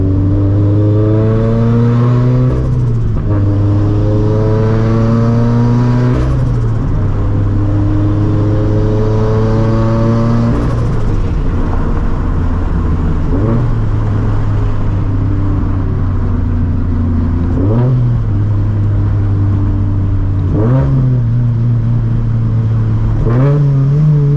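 400hp turbo Scion FR-S with loud exhaust pulling hard through several gears, engine note climbing repeatedly then dropping at each shift, heard loud from inside the car with road noise underneath.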